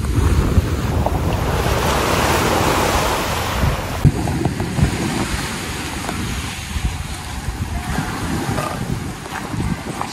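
Sea waves wash steadily against a city pier, a broad continuous surf roar mixed with gusty wind buffeting the microphone; no voices are heard.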